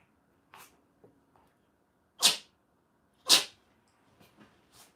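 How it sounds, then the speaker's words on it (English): A pet sneezes twice, close and sharp, about a second apart. Faint rustles and small taps fill the quiet around the sneezes. "I assume that's why you're sneezing."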